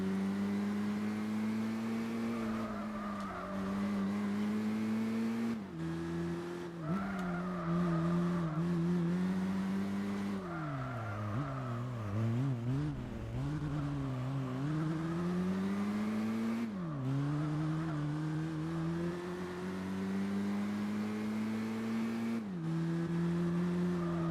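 A Volkswagen Golf GTI in Gran Turismo 4 drones steadily at high revs, the engine note rising and falling through gear changes and braking, with tire squeal mixed in, loud and unbroken throughout.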